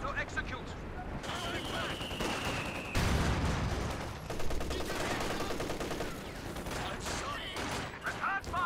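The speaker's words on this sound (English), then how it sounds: "Speaking of rocket artillery. Ooh, that was a big hit. That was a good barrage there." A rocket artillery barrage in a Company of Heroes 2 winter battle, with rapid overlapping explosions and crackling gunfire rolling continuously under excited commentary.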